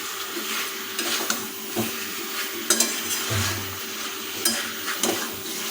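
Meat, later joined by spinach for chicken with spinach, stir-fried in a kadai, with a steady close sizzle broken by repeated scraping and clinking of a spoon against the pan.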